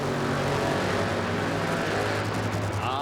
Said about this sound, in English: The sounds of funny car.